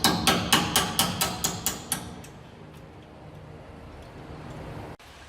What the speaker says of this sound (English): we're just going to go ahead and tap this safety pin through